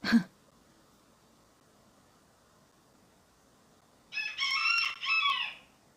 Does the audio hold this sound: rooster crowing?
yes